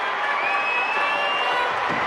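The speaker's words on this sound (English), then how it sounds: "The crowd loving it here at Carraro." Football crowd at Carrara stadium during a Gold Coast Suns versus Essendon AFL match, a dense, loud sustained roar of cheering after a goal, steady across the whole moment.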